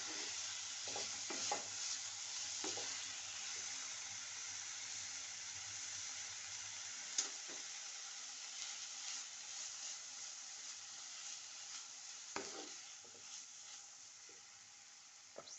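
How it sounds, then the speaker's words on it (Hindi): Crisp-fried pumpkin peels with chaat masala stirred in a hot pan, a steady close sizzle with occasional scraping knocks of the spoon, no talking. "अब बस इसको थोड़ा सा चलाना फिराना है"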